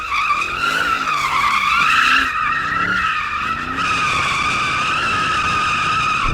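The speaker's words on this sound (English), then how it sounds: "Got it all the way off for donuts." A sports car spins donuts, its tyres screeching in a sustained, loud squeal as the engine note rises and dips with each rotation.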